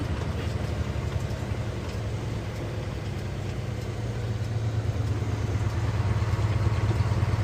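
A Paystar 5600 TS truck in Snowrunner drones steadily with a low, rumbling engine hum as it slows and drops gears into a corner, fairly even in loudness with a slight rise toward the end.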